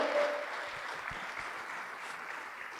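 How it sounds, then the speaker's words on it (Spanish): A church congregation clapping hands during a worship service, a steady, moderately faint patter of many hands with a brief voice at the start. "Dele fuerte las palmas al Señor Dios Todopoderoso"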